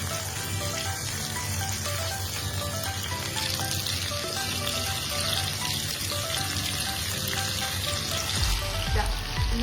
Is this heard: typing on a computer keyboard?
no